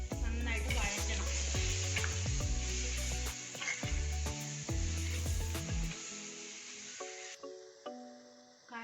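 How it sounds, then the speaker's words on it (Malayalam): A paste of Kashmiri chili, coriander and turmeric powders sautés in oil over a low flame for a Kerala-style fish curry, giving a steady sizzle with stirring, under background music. "അതെല്ലാം കൂടെ നമ്മുടെ എണ്ണയ്ക്കകത്തേക്ക് ഇട്ടിട്ട് ഫ്ലെയിം കുറച്ചിട്ടിട്ട് നന്നായിട്ട് വഴറ്റണം"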